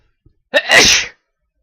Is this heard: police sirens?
no